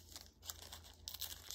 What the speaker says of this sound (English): So I'm gonna tear the tissue paper